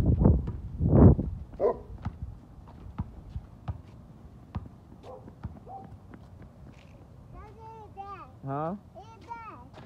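A dog barks a few times at a distance outdoors on a hot day while a young child and an adult talk nearby, the barks scattered among their voices.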